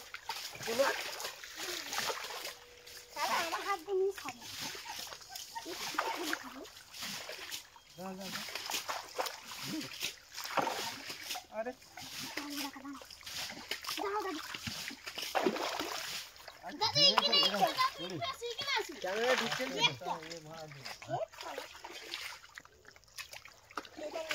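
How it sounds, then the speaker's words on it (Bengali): Water is bailed out of a shallow, low pond during a fishing outing, with repeated splashes and sloshing throughout, close and fairly loud, while people talk over it. "এইরাম করে ছিঁচতে হচ্ছে, জল অল্প হয়ে গেছে যার জন্য।"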